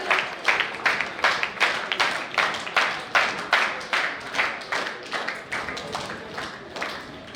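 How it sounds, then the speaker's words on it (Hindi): A seminar audience claps in rhythm, with sharp, evenly spaced hand-clap bursts repeating about twice per second, fairly close and gradually softening. "तालियां कैसे रुक गई भाई, कंटिन्यू करो।"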